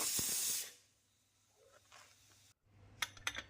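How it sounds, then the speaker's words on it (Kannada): A pressure cooker holding chicken curry vents steam in a loud, steady hiss that lasts about half a second and cuts off, followed by quiet and a few faint metallic clinks. "ಕುಕ್ಕರ್ ಪ್ರೆಷರ್ ಎಲ್ಲ ಹೋಗಿದೆ ಈಗ ಓಪನ್ ಮಾಡೋಣ"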